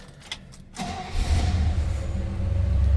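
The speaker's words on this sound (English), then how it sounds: "Kicked right over. Fired right up. That was a cold start." A 1964 Oldsmobile Jetstar 88 engine cranks briefly on a cold start and catches, then settles into a steady, loud idle close by.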